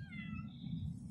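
A friendly male stray cat gives one short, fairly quiet meow close by, over a low rumbling background, with no speech during the cry.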